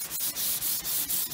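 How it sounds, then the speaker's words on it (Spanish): Wood being sanded by hand to strip polyurethane glue residue, a steady rasping scrape in quick back-and-forth strokes with brief gaps between passes, close and moderately loud. "Le di una lijada a todo en general, una buena lijada, para sacar rastro del pegamento"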